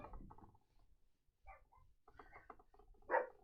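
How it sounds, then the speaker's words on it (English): Excited puppies barking and whimpering indoors, several short yips and small barks scattered across the stretch, a little distant and fairly quiet, with one louder yelp near the end and no one talking. "You might hear some puppies barking."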